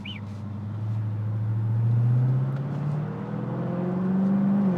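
A Porsche drives past with a loud engine note that swells, dips and rises again as it accelerates, heard up close.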